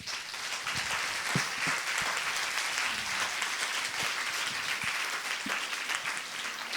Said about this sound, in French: Messieurs, dames, merci. On peut vous applaudir.